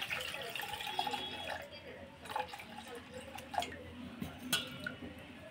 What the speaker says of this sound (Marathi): यामध्ये पाणी टाकायचं आहे।